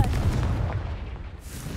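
Fiery Confringo spell blast in Hogwarts Legacy, a low rumbling boom that rolls on steadily and fades slightly over under two seconds, with no talk.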